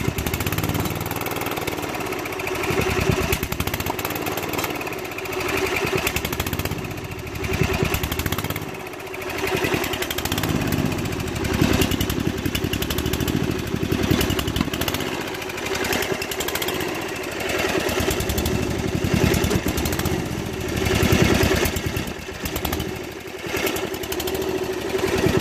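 Riding lawn mower engine running at high throttle, the mower smoking and stalling with its crankcase filled with gas, giving a loud, continuous close-up roar with slight rhythmic surges throughout.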